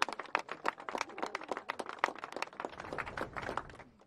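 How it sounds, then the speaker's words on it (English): Dense, continuous applause rattles through a press conference held by attorney Benjamin Crump with Breonna Taylor's family, many hands clapping together before tapering off slightly at the end, with no voices over it. "give him a round of applause"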